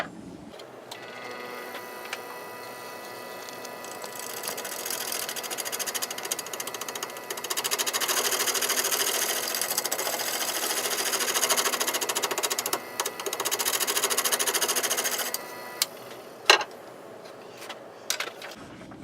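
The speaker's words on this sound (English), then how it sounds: "What I'm going to use is a gouge, bowl gouge, and we're just going to scrape it along the edge here to try to true it up." A wood lathe spinning at 400 rpm while a bowl gouge scrapes along the edge of a bowl blank, giving a steady close whir with a harsher scraping hiss that swells in the middle and fades, ending with a few clicks.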